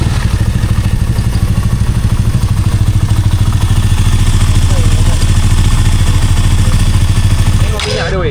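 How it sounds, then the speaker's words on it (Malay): A motorcycle engine with a 70mm big-bore upgrade idles loudly with a rapid, steady chugging rhythm close by, then cuts off abruptly near the end. "Motor dah hidup, dah cun."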